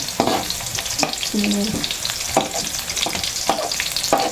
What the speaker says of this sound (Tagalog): Masyado pong matunog yung aking pagkakalo.